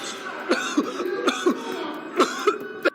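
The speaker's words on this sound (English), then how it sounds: "He is doubled over, coughing uncontrollably." Repeated harsh coughs burst out in an irregular series, about a half dozen sharp fits close to the microphone.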